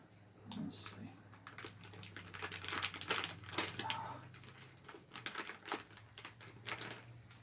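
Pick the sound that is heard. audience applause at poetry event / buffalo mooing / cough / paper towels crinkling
paper towels crinkling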